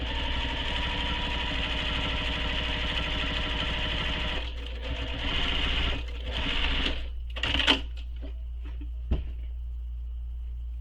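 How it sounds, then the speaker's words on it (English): A sewing machine top stitches the open end of a backpack with a steady, close mechanical whir for about four seconds. The motor then stops, leaving soft handling clicks and rustles of fabric and thread. "top stitching the open end"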